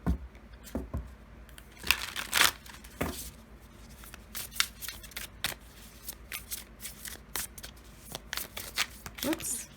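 Tarot cards shuffled by hand during a card reading, with repeated riffling and slapping bursts, close and fairly quiet, under a person talking.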